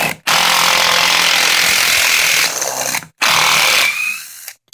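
A Makita 12V impact driver backs out a 3.5-inch screw, loud close rattling hammering in two long bursts separated by a short pause, with no voice.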